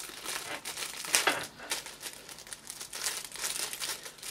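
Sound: magic trick bag being put back into plastic packaging

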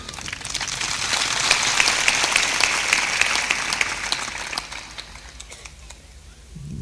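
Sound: audience clapping at a devotional discourse

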